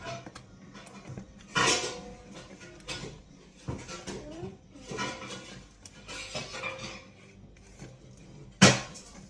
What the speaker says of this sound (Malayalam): അപ്പം എല്ലാം ഒന്ന് മിക്സ് ആക്കട്ടെ